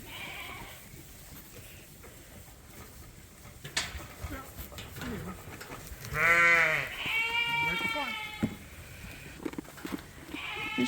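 A Dorset Texel cross sheep bleats loudly and close by, two long wavering calls in the middle, with scattered thumps and handling noises around them.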